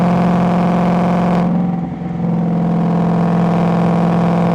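A Ford Mustang on Firestone Indy 500 tires takes winding Southwest Virginia mountain road corners, its engine holding a loud, steady drone inside the cabin, briefly easing off mid-clip before pulling evenly again, with no talking.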